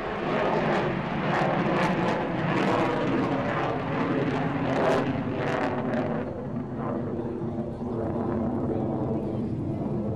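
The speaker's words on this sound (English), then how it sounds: "Typhoon from the left." Royal Air Force Eurofighter Typhoon jet passing at an airshow, a loud sustained roar building and easing, with a commentator's voice over it.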